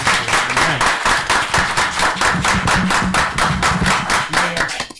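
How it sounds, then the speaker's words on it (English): Steady, dense applause from a crowd at a city commission meeting in South Bay, Florida, clapping continuously at close range for several seconds before fading at the end. "Let's give them a round of applause"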